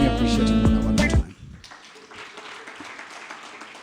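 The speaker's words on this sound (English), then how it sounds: "I think that's a clap that is befitting for Mona" An audience claps at a sustainable finance curriculum launch: a broad, steady wash of applause follows a louder tonal passage and carries on at moderate level to the end.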